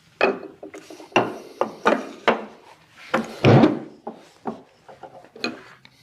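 Sharp, separate knocks of a chisel struck into wood while chopping a mortise, about a dozen irregular hits with scraping between them, close and clear.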